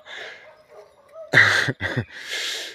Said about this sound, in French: maintenant, c'est le chien du voisin qui gueule